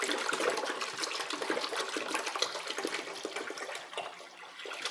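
Used gas-tank cleaning liquid is poured into a basin, a steady close rushing splash that holds for several seconds and eases slightly toward the end.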